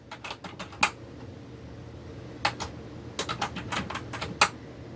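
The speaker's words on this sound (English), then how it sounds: "You'll hear my partner Sawyer typing away in the background." Someone types on a computer keyboard in the background, with soft irregular key clicks in scattered bursts, a few sharper taps, and faint room hum underneath. Nobody speaks.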